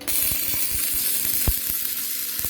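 Arc welding with a 3.2 mm rod at a 120 amp setting, giving a steady dense crackling sizzle with a few sharper pops, heard close up with no voices.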